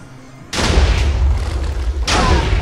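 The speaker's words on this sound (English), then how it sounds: "Oh, the explosions are flying." Explosions in a Minecraft tournament match: two sudden loud blasts, the first at about half a second and the second near two seconds, each leaving a sustained rumbling roar that fills the rest of the clip.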